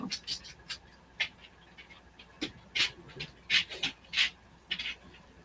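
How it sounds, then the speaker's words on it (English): A dog begging for turkey pants and snuffles in short, uneven bursts of breathy rasping, close by, with soft rubbing and shuffling noises between the breaths. "Arguing with the dog that wants turkey."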